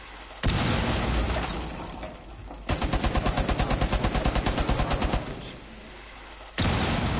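Pistol gunfire in Rainbow Six Siege, a rapid, evenly spaced string of about twenty sharp shots fired in one burst, loud and close, framed by heavy noisy ambience before and after.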